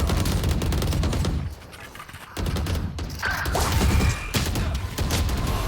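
Gunfire in a video game, loud rapid bursts of shots and cracks, close and dense with a brief lull in the middle, no talk.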